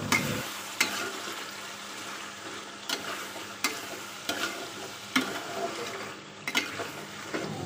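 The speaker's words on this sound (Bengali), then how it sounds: "আমি কত ভালো করে মাংসগুলোকে কষিয়ে নিচ্ছি" Meat being sautéed in a pan, a low sizzle punctuated by sharp spatula knocks and scraping strokes every second or so, close and moderately quiet, without any voice.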